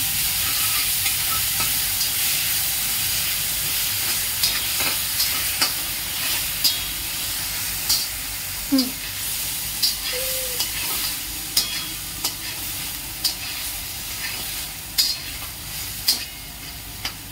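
Green paste for bread pakoda sizzles steadily in a hot pan while a spoon scrapes and stirs it, with soft regular scraping taps over a constant frying hiss.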